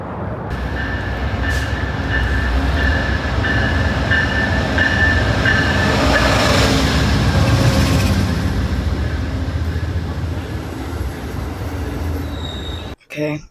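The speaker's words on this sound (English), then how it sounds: "Okay, so we're on the train." A passenger train rolls along the rails, a loud steady rumble with rhythmic wheel clatter and occasional squealing, heard close from inside the carriage before cutting out near the end.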